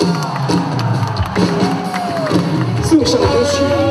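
A live crowd at a folk song concert cheers and whoops to welcome a singer, a dense, steady roar of voices and calls that fills the whole stretch.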